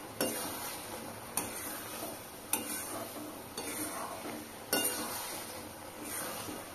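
A thickening raw mango naru mixture is stirred in a pan. Quiet scraping strokes are punctuated by about five sharp clicks as the spoon hits the pan, with no talking.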